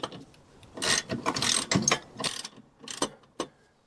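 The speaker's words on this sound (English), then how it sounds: "Got to loosen this nut." A wrench works a nut loose on a six-inch lift kit fitted to a 2007 Club Car golf cart, giving a close, loud series of irregular ratcheting clicks and metallic rasps in short bursts.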